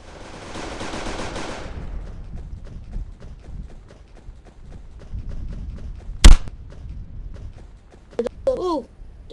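Video game gunfire, a fast rattle of repeated shots under a speaking voice, followed by one sharp loud crack and a few electronic chirps near the end.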